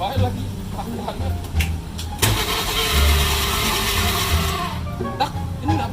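A motorcycle engine starts up and settles into a steady running drone, loud and close, with background noise and brief clicks throughout.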